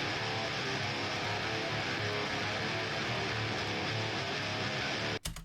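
Dense, loud guitar-heavy music passed through an EQ with the lowest sub frequencies rolled off, running steadily for about five seconds before cutting off abruptly.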